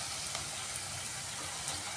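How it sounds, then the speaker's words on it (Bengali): Raw, unboiled potatoes frying in a covered pan give off a steady, soft sizzling hiss that continues evenly throughout, with faint crackles and no voices. "আলুগুলোকে আগে আমি সিদ্ধ করি নাই, এর জন্য একটু ঢাকা দিয়ে দিয়ে ভাজি করছি।"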